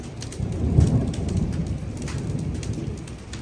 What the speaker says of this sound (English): It's thunder and lightning now outside.